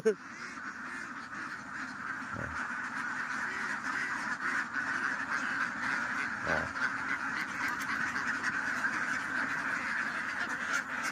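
Domestic ducks on a small duck-raising farm quack continuously in a large flock, a steady busy chorus with occasional louder calls, heard from nearby without talk.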